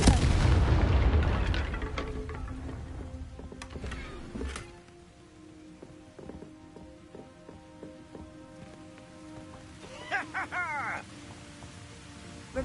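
The Confringo explosion spell from a Harry Potter video game goes off as a loud, crackling blast at the start. It fades into scattered pops and small impacts, with magical chiming effects later on.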